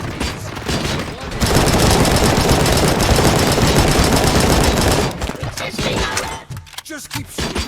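Sustained automatic gunfire from the video game RoboCop: Rogue City, a loud dense fusillade of rapid shots lasting several seconds, then tapering into scattered bursts and impacts.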